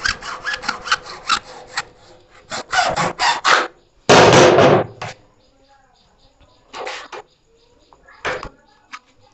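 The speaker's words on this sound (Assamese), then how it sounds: "যিহেতু মোৰ তাত নাই, মই হেক্সো ব্লেডৰ দ্বাৰাই কাটি দিম।" A hacksaw blade cuts through PVC pipe in a quick series of loud, rasping back-and-forth strokes, then a pause and a few more scattered strokes near the end.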